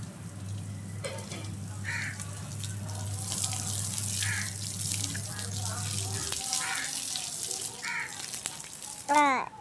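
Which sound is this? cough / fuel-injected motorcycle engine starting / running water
running water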